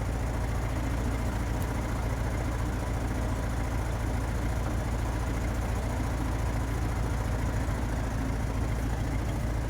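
An Oliver tractor engine idles in a steady, continuous low rumble with a constant hum and no change in speed, moderately loud and alone.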